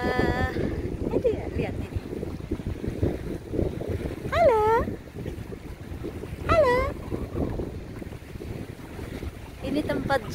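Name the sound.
strong wind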